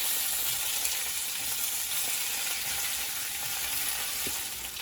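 Fresh spinach leaves are tossed in a hot pan, producing a loud, continuous bright sizzle that fills the whole stretch evenly with no talking.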